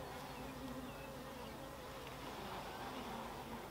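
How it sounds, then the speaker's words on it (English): A close, continuous drone of many honeybees buzzing together around a hive, steady and dense, with no voices. "Now there's a lot of bees that are home."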